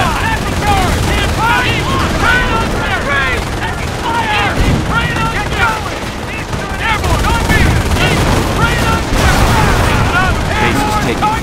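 Gunfire in Company of Heroes during a Normandy landing battle: rapid machine-gun bursts and rifle shots crackle continuously with booms underneath, loud and dense, while game voices speak over the combat.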